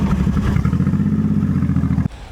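A Honda VTX 1800C motorcycle idles close by with a deep, rhythmic V-twin throb, loud and steady, before cutting off abruptly near the end.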